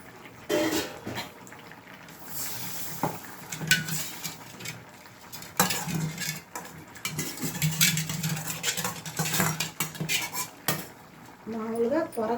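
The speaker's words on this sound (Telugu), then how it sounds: "నీళ్ళు పోసి బాండోలు కడిగి వేసేస్తున్నాను." Water poured into a kadai and the pan rinsed while cooking a moong dal masala curry: splashing, swishing and metallic scraping and clanks, irregular and close, with occasional talking.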